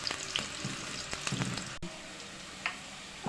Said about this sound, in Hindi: ऑयल गर्म हो जाए तो इसमें प्याज ऐड करते हैं हम।